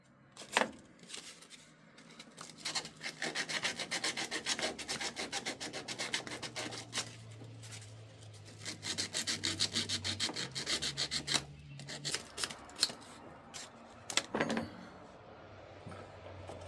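Sandpaper and a wire brush scrub a metal nut up close, making rhythmic bursts of dry rasping and rubbing with short pauses between strokes.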